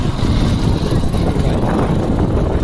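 Loud, steady rumble of a moving motorbike with heavy wind buffeting the microphone, a continuous low roar throughout.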